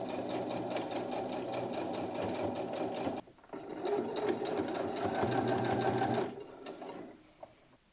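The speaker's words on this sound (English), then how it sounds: "we are at the part where I sew on the waistband" Sewing machine stitching a waistband onto a white linen skirt, a steady fast whirring run that stops briefly, restarts for a longer burst, then slows and ends with a short click.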